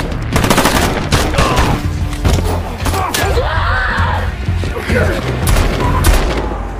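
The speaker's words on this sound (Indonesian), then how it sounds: "terjadilah baku tembak" Film gunfight between CIA agents and others, with rapid bursts of gunfire and booming shots layered over dramatic music, shouting and sound effects, dense and loud throughout.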